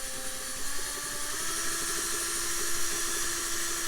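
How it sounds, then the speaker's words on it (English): A cordless drill with a weak, nearly dead battery whirs weakly and unevenly, its motor whine straining and sagging as if underpowered, with a hissy background and no voices. "my drill sounds like it's got dead battery"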